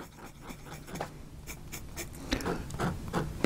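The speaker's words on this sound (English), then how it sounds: "my first response is that nib's a little scratchy." A slightly scratchy Southern Pen Co. Duall fountain pen nib writing on paper, giving soft, close scratching strokes in an irregular rhythm with small bursts, quiet and alone.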